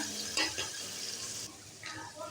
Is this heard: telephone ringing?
no